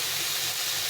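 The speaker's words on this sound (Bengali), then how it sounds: "আর একটু লঙ্কা গুঁড়ো দিয়ে এটা একটু জল দিয়ে ভেজে নেব" Chili powder and a splash of water fry in a pan with ridge gourd, giving a brief, steady, loud sizzling hiss close up, with no talking.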